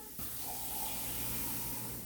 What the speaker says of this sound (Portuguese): Vou pôr aqui um pouco de água na vasilha